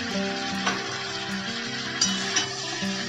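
Spice paste for a fig and potato dalna sizzles and fries steadily in a pan, a close continuous crackle with a few brief louder pops and stirring scrapes over low hum.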